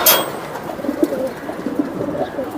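Soft, low coos of Giribaz pigeons repeat a few times at close range over a faint background hiss, with no talking.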